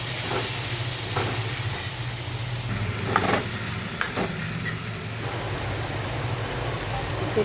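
Chicken sizzles in hot spiced oil with bay leaf, cloves, cinnamon, onion, ginger-garlic paste, red chilli and turmeric, stirred in the pan; a constant loud frying hiss is broken by several scraping stirs.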